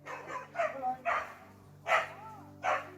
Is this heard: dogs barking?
yes